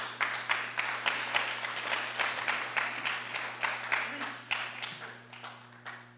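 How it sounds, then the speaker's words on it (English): Church congregation clapping together in a steady, rhythmic beat that runs throughout, fairly close and lively, with a faint low hum underneath. "let's clap for God."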